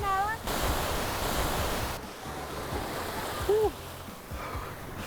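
Waves wash onto a cold beach at Punta del Este in a steady, moderately loud rush of surf. A few brief tonal chirps sound over the noise.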